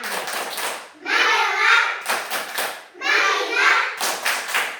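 Second-grade schoolchildren in an Indonesian classroom perform a rhythmic focus clap, sharp bursts of group clapping alternating with young voices chanting in unison, close and lively.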